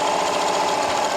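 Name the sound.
Janome Continental M7 sewing machine stitching a seam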